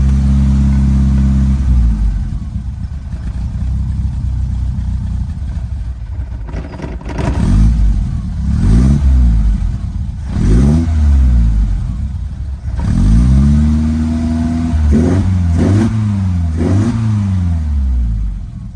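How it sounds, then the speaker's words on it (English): Lotus Elan engine with carburetors warming up, idling loudly and steadily up close, then revved in several sharp throttle blips that rise and fall. "Getting up to temperature now, so let's see what we can do with an idle."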